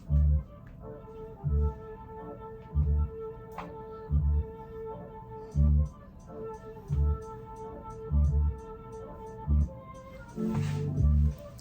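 A hip-hop beat with heavy, evenly spaced kick drum hits roughly every 1.4 seconds under a looping melodic pattern and light percussion.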